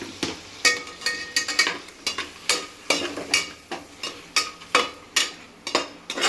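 Eggs with chili powder and salt are stirred in a frying pan, a spatula knocking and scraping in a brisk, steady rhythm over a low sizzle, close and loud, with no speech.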